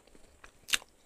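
A single crunchy bite into crispy fried chicken with a golden crust, one short close crackling crunch after a few faint softer chewing sounds.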